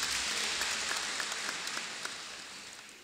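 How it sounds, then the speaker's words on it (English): Students applaud at a university graduation ceremony in Malawi, a dense wash of clapping from a large crowd that holds steady and then gradually thins out, with no speech over it. "Clap hands, please, students."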